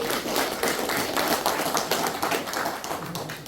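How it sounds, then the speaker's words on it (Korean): An audience at a Korean veterans' policy rally claps together for a few seconds, a steady patter of many hands at moderate distance, with no talking over it. "그 박수 한번 주세요."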